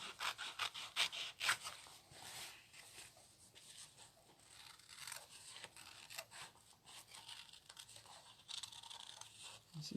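Scissors snip through fabric while an applique piece is cut out, a close run of quiet crisp cuts in uneven rhythm with soft rustling of cloth.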